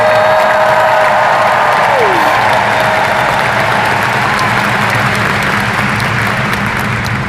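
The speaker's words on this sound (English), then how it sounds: "Can we give our cast a round of applause?" Large convention crowd at a Disney D23 parks panel in California applauding and cheering for the cast, a dense continuous roar of clapping with whoops and a few voices rising over it, loud throughout.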